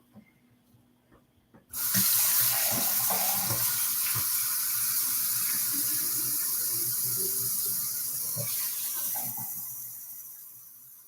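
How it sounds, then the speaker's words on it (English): Running tap water pours into a sink and down the drain after liquid is tipped in, starting suddenly after faint handling clatter, a steady loud rush with splashes that gradually tapers near the end. "So throw it down the drain."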